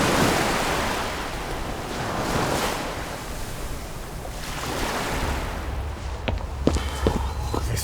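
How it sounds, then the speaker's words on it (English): Wind blowing in off the sea with waves washing and surging continuously, a broad rushing sound, joined near the end by a few sharp clicks or knocks. "This wind out of the sea gets into my bones"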